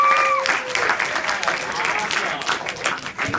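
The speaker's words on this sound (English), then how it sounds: "round of applause for Emma." An audience at a university chemistry show breaks into a round of applause, dense clapping that runs throughout, with a brief whistle-like tone at the start and a voice faintly audible.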